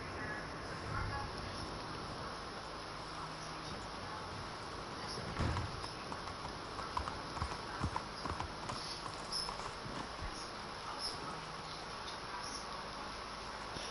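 Horse hooves clip-clopping in Red Dead Online, a steady rhythmic run of hoofbeats under a constant hiss of insect and cricket ambience, moderately close and without talk.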